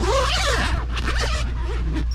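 A zipper on a canvas boat enclosure of a 2006 Sea Ray 240 Sundancer is pulled in several short, rasping strokes, close up, over a low steady background hum.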